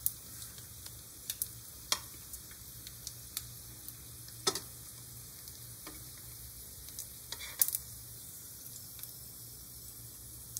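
Dried fish fry in a pan for breakfast, a steady soft sizzle running throughout, broken by sharp scattered clicks and scrapes as a utensil stirs the pieces, fairly quiet and close with no talking.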